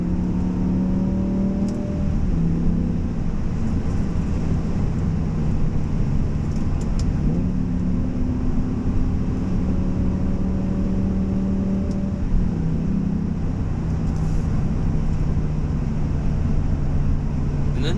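A 2009 BMW M6 engine drones and revs with rising pitch in race mode, dropping briefly at each quick gear change, then climbing again; steady, close and loud.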